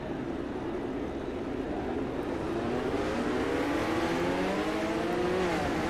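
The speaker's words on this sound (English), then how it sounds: "I will let you enjoy the sights and sounds of the cars" Midget race car engines in the iRacing video game roar continuously at Lucas Oil Speedway, with a rising whine as one accelerates and others drone alongside; no one speaks.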